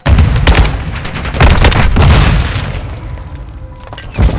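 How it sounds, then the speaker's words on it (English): A grenade exploding in Call of Duty Modern Warfare 2 online play, loud close booms and rumbling blasts amid scattered gunfire, fading before a final sharp hit. "Grenade!"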